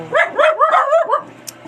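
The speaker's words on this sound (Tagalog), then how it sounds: "ingay ng alaga kong aso." A pet dog barks in a quick run of five or six sharp, close, loud yips, then stops.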